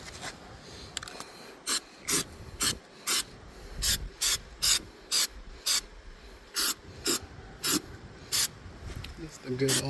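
A rusty refrigerator part resting on a towel over a paver is scrubbed by hand, with about sixteen short, sharp rasping strokes in an uneven rhythm, close and loud over a quieter background.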